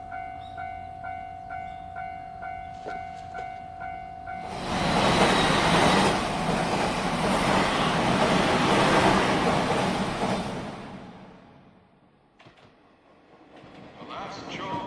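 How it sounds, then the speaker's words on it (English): A shoreline train pulls into a station with a loud, rising rumble and wheel clatter that swells for several seconds and then fades, after a quiet stretch of steady ambient hum. "The last shoreline train bound for Tokyo is now arriving."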